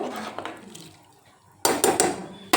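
A spoon stirs vegetable pulao with coriander and mint in a metal pressure-cooker pot, first with soft scraping, then a burst of loud, close clanks and scrapes against the pot.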